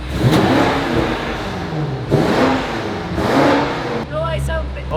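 Car engine running without an exhaust fitted, downpipes and resonator removed, revved in repeated surges that rise and fall, loud and close, with people talking over it.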